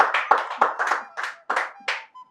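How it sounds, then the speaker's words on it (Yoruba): A game show studio audience claps for contestants: several short, sharp bursts of clapping in an uneven rhythm, close and fairly loud, with no talk. "Ẹ jọ̀ọ́ ẹ bá mi pàtẹ́wọ́ fún wọn"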